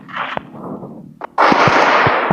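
Gunfire in a shooting video game while aiming for headshots: a sharp single shot, then a brief burst of loud, close shots with dense rattling noise, with no voices.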